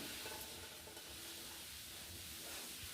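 Ghee heated in a pan for tempering a sambar gives a steady, faint, hissing sizzle that carries on without a break and with no talk.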